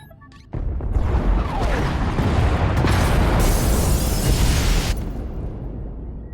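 A massive explosion tears through the pod bays aboard a ship in Star Wars: The Old Republic, a sudden loud blast followed by a sustained roaring rumble of destruction that slowly tapers off.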